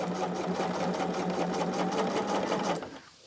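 A sewing machine stitches steadily and loudly with a fast, even mechanical whir, running continuously for nearly three seconds before stopping abruptly into near silence.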